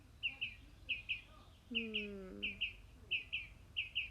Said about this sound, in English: The birds are lovely, right?